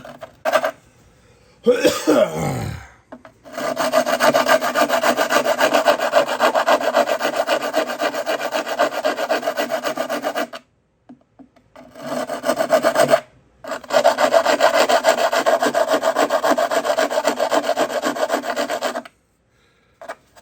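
Rhythmic rasping strokes of a hand saw cutting through wood, close up, in two long bursts separated by brief pauses.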